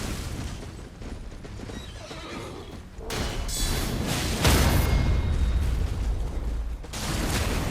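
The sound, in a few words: horse neighing in Elden Ring video game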